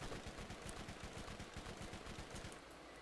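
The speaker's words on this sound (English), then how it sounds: "This weapon doesn't need to be that like insanely accurate or whatever, because it sends such a volley of bullets that it really doesn't matter" A gun in the video game Borderlands spraying a long volley of rapid shots, a dense, even burst that runs nearly continuously at moderate level.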